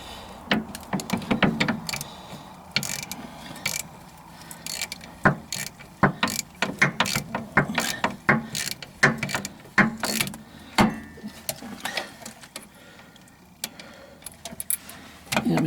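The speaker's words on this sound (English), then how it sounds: "With the long snap-on ratchet, that don't help any." Long Snap-on ratchet clicking in short irregular bursts while turning a fastener on a Matrix Vibe AWD rear wheel bearing job, close and fairly quiet with small metallic clunks between strokes.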